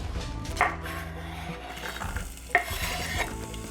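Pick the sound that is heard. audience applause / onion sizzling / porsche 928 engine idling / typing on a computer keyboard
onion sizzling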